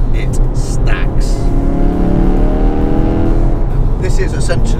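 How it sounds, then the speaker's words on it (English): A Ford Focus RS engine revs hard through a straight-through exhaust with a weak silencer, a loud steady roar with a rising drone, while someone talks over it. "This is essentially a straight through exhaust leading to a fairly inadequate silencer."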